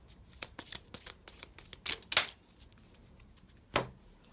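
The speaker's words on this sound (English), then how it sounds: "I'm going to shuffle again" Tarot cards are shuffled close by in quiet bursts of soft riffling snaps, with a few sharper slaps near the end.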